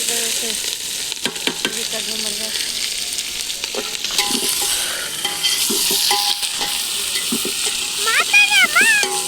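Onions poured into a hot pan hiss and sizzle steadily as they fry, with stirring scrapes throughout, close and loud, while a voice talks briefly over the cooking.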